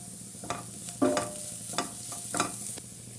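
Chilli and pepper powder with spices sauté in a pan for broccoli cutlets, a soft continuous sizzle marked by several distinct scraping stirs of the spoon, close and moderately quiet, with no talk.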